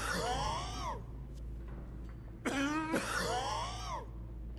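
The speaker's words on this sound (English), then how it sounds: "All the coughing." Characters in the video game Skyrim, at a spot where skooma is used, cough in rough bursts: one hacking fit, a pause, then two more close together over a quiet low hum.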